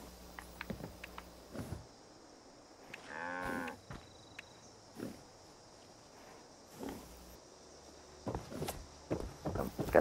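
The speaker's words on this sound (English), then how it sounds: "I hit the cow." A cow in the Fallout 76 video game moos once, a loud drawn-out low call standing out among sparse game footsteps and scattered thuds.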